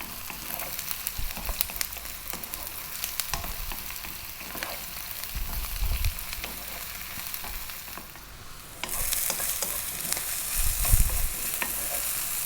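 About three or four cups of eggplant toast in a pan over above-medium heat, sizzling steadily with frequent stirring scrapes. The sound swells louder near the end.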